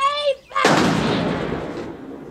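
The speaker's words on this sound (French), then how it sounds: "ce coup de feu alerte Max" A single loud gunshot from the 1979 film Mad Max, a sharp blast with a long decaying echo, preceded by a brief bit of speech.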